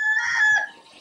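A hen lets out a single drawn-out, nasal cluck-cackle lasting under a second, close and fairly loud with no other sounds around it.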